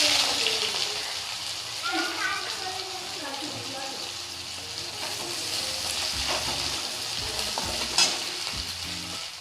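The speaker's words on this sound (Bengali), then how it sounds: "পেঁয়াজটা হালকা করে ভেজে নেব একটু।" Chopped onion fries with a steady broad sizzle in a pan and is stirred now and then with scraping spoon strokes, close and fairly loud for the whole stretch, with a sharper knock near the end.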